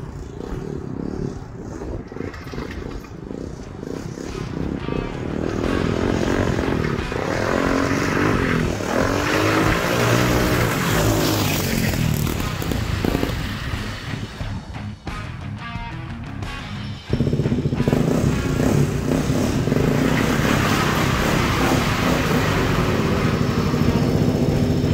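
A Honda 400EX ATV engine runs loud and close for the whole stretch, a steady rough drone that rises and falls with the throttle and jumps louder near the end.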